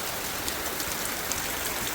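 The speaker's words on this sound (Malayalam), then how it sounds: "മഴ അല്ലേ സൂപ്പറായിട്ട് പെയ്തു" Heavy rain pours down in an unbroken roar of hiss and drumming, with faint scattered drops standing out and no talking.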